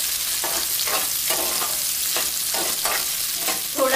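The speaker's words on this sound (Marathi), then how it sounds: "बारीक चिरलेला मोठा कांदा, कांदा आपण तेलामध्ये फ्राय करून घेणार आहोत" Finely chopped large onion fries in hot oil with mustard seeds, a loud, steady sizzle broken by rhythmic scraping bursts as it is stirred about every second, heard up close with no talking.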